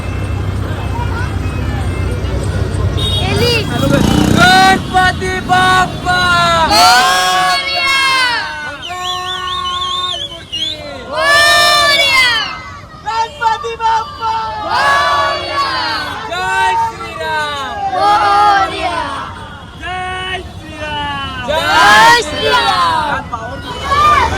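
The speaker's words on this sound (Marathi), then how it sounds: "काय शाडचा राजा आणि ही प्रजा सगळी जल्लोष आहे" A large festive crowd cheers and chants loudly during a Ganesh idol arrival procession in a village, rising waves of shouts and collective cries repeating, with voices and chatter throughout.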